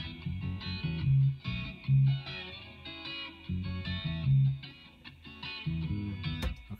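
Layered mix of a guitar part with an added bass line, both playing the same tune together at moderate level, with low notes pulsing underneath and steady melodic movement above, no talking.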